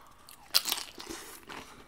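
A bite into a Chipotle burrito bowl with guacamole, spicy salsa and rice gives a close, wet crunch with soft chewing right after. It is fairly quiet, and no one talks.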